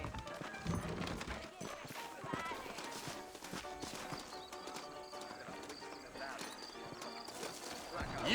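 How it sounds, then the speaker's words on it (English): In the Red Dead Redemption video game, saddled horses clip-clop with quick, busy hoofbeats and let out an occasional whinny. Faint talk and game ambience sit underneath. "I got the horses saddled up and ready out front."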